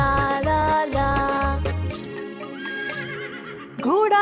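A horse neighs in a long, loud, shaky whinny near the start, with a second rising whinny at the end, set against a bright children's song with music and sung vocals.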